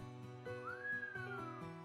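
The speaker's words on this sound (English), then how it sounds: "I whistled." A single person whistles a short, rising and falling note, faint and close over a steady background of music.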